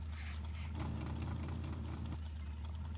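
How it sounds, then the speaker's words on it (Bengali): A motorcycle engine in the video game GTA 5 idles with a steady, quiet low hum and a faint mid-range rumble, with no talking over it. "এই যে আমার মোটর সাইকেল, এখানে উঠলাম।"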